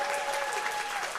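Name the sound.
applause for the panelists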